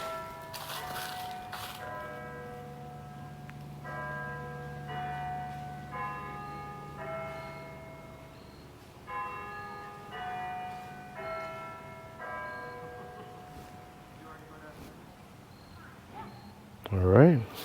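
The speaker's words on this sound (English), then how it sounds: "There's the bell." An outdoor church bell tolls in a slow, steady series of resonant strikes, moderately distant and fairly soft, with faint background voices and a brief louder noise at the end.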